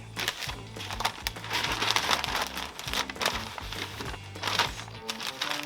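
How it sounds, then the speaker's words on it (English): Smoked brisket being wrapped and folded tightly, with a steady crinkling and crushing of wrap material and pressing noises going on close by throughout, with no talking. "So when I wrap, I'll start by putting the back end up there, pressing it in, then just kind of fold the outside in."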